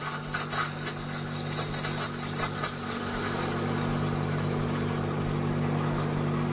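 Milk being steamed for a hot latte, starting with a few seconds of sputtering, uneven bursts of hissing that settle into a steady, close roar of steam with a faint mechanical hum underneath.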